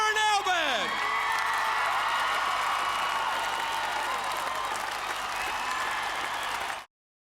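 A crowd of 30,000 to 40,000 fills Civic Park, cheering and applauding the players in a dense, sustained roar. A few rising whoops stand out at the start, and the sound cuts off abruptly near the end.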